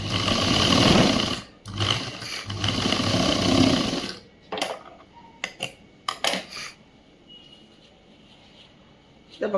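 Sewing machine stitching a boys' government school uniform shirt: two loud, sustained whirring runs of stitching, then quieter scattered clicks and handling noises.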